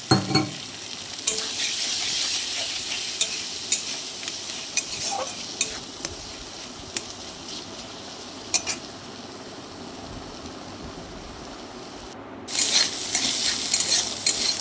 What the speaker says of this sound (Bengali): এরপর আমি একটা ডিম ওর মধ্যে দিয়ে ভেজে নেবো ভালোভাবে